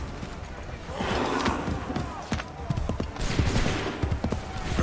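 Musket volleys crack out amid battlefield commotion in Assassin's Creed III, a scattered series of sharp reports with shouted commands and crowd noise around them.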